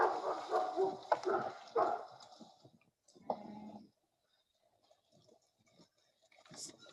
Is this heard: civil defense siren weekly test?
no